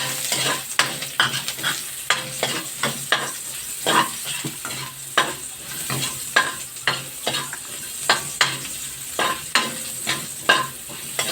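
Garlic, onion and ginger sizzling in hot oil for a chicken curry, a steady close frying hiss punctuated by a regular rhythm of spatula scrapes and taps against the pan.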